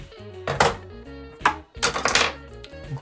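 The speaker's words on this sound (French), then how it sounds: "Quand on coupe, on laisse 1 ou 2 mm, pas plus, de corde" A rope being cut, heard as a few short crisp rasping bursts, each brief and fairly close, with steady tonal background music running beneath.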